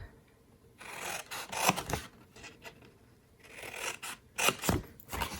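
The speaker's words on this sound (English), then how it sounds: "So I'm just gonna take my scissors," Scissors cutting a paper Halloween craft template up to a score line, in short bursts of close snipping and rustling paper separated by quiet pauses.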